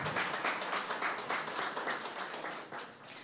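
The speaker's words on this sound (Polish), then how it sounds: "Teraz pierwsze brawa." An audience applauds at a children's song festival, dense clapping from a crowd that carries on for a few seconds, then begins to thin and fade toward the end.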